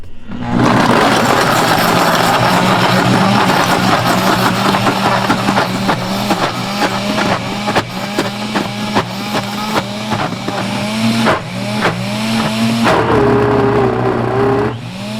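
A loud, close ice cream maker motor drones steadily on low speed, with a repeating rhythmic churning pulse running through it.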